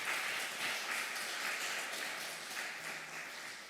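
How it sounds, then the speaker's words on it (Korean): A church congregation at a Wednesday service applauds in a sustained, dense patter of many hands, fairly faint and even, slowly tapering toward the end. "여러분 수고하셨다고 축복하고 격려하는 박수 좀 한번 하시기 바랍니다"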